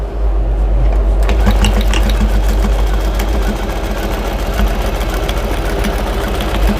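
A sewing machine stitches a drying mat with a double line of stitching, running as a loud, close, rapid mechanical rattle with a steady motor hum for the full stretch.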